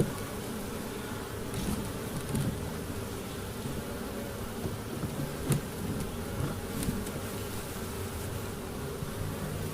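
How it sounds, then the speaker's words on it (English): Honey bees buzz around an opened hive while honey is being removed, a steady dense hum close to the microphone with occasional louder passes and brief rustling. "Just chase those few bees away."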